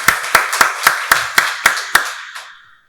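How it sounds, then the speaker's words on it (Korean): Rhythmic clapping from a church congregation at a Christmas Day Sunday service, about eight sharp, evenly spaced claps that fade out at the end, fairly close and loud with no talking. "박수로 하나님께 영광 돌리겠습니다."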